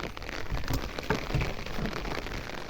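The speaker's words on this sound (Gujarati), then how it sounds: "બહુ સારામાં સારો વરસાદ પડતો" Heavy rain pours down steadily outdoors, a dense, constant hiss of drops drumming on surfaces with no pause and no voices over it.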